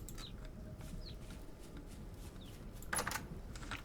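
Chickens in the video game Vintage Story give a few faint, scattered clucks over a low ambient background, with one brief sharper sound near the end.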